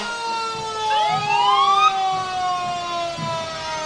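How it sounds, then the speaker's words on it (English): A loud fire engine siren wails nearby during a July 4th parade, its tone sweeping up and holding, with a rumbling engine underneath and no talking. "So we've got the fire engine and the paramedic unit."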